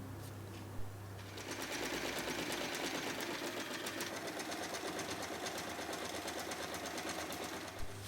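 A sewing machine stitches along the top edge of layered tote bag main and lining fabric, starting after a click and running in a steady, rapid mechanical whir with fine regular ticks, close and continuous until another click near the end, no talking.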